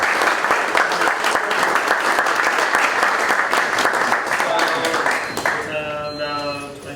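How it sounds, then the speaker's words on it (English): Audience applause at a weekly startup meetup, a dense sustained burst of many hands clapping that fills the room and begins tapering off near the end. "Let's give them a round of applause."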